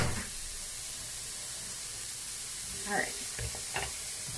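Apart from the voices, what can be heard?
vegetables sauteing and sizzling in a pan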